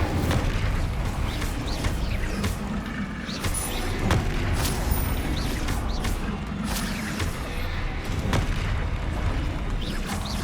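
The Incendio fire spell in Hogwarts Legacy is cast amid a busy duel, producing repeated whooshing, booming bursts and sharp impacts that stay loud and steady over about ten seconds, without voices.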